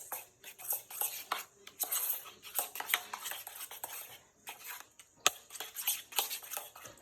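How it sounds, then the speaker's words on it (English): Sour cream and lime juice stirred together in a bowl, a run of quick, light scraping and clinking strokes with brief pauses, close by and fairly faint. "So, I'm gonna mix this together. This is the sour cream and some lime juice"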